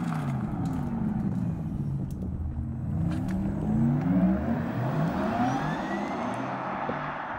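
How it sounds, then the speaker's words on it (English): Porsche Taycan 4S Sport Turismo electric car in normal drive mode, giving a steady synthetic electric whir with rising and falling tones as it accelerates, continuous and moderately loud with no talk. "the other thing I love about Taycan is their electric sport sound."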